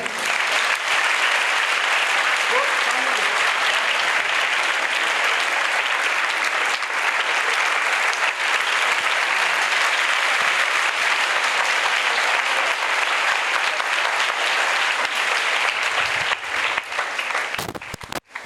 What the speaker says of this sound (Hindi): चलिए जी, जोरदार तालियां बजाएं।